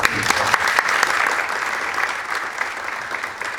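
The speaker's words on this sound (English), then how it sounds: "And there is Doug, who is presumably standing and taking a bow and will receive your applause" An audience claps steadily at a scholarship contest presentation, a dense spread of hand claps that holds at a fairly even level and tapers slightly toward the end.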